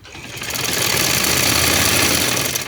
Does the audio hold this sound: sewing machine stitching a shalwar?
yes